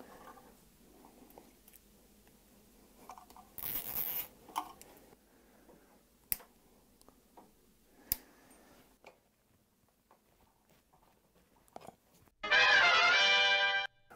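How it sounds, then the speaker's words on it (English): A zip tie ratchets as it is pulled tight through a tab on the frame of a Wired Freedom electric bike, a loud buzzing zip lasting about a second near the end, after scattered quiet clicks and handling noises. "There's a little tab in the frame here where the zip tie goes right through."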